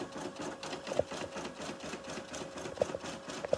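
An embroidery machine stitching a robe design chatters in a rapid, steady rhythm, with faint higher clicks and beeps popping up now and then over the mechanical hum.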